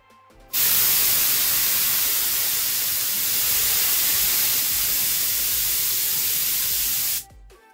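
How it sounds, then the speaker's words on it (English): Compressed air from a spray can blasts steadily onto a sensor being cooled after heating, a loud continuous hiss lasting about seven seconds with abrupt start and stop. "Now I'll use compressed air to cool it down."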